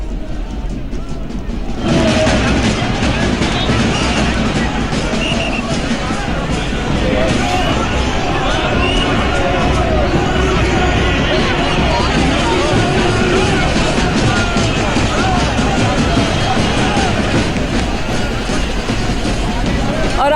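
Crowd at Rahul Gandhi's roadshow procession in Varanasi: a loud, continuous roar of crowd noise and babble with traffic rumble, and a reporter talks over it.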